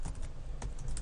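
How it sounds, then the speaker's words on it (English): Computer keyboard typing, a rapid run of close, crisp key clicks with short bursts clustered at the start and again near the end, no talking. "You can probably hear my keyboard"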